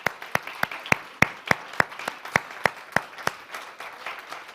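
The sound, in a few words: audience applause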